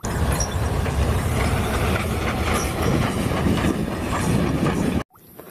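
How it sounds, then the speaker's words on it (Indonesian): Toy steam train running, a steady close rattling and clicking of small wheels on track for about five seconds, then stopping abruptly. "Ini adalah kereta api uap."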